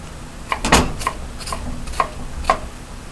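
Knife strikes chopping mango into small pieces on a board, a handful of sharp taps spaced irregularly, moderately close with faint background hum.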